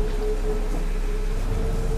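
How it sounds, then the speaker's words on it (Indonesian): Steady rain hisses outdoors, a continuous even wash of noise with no voices. "Di luar lagi hujan."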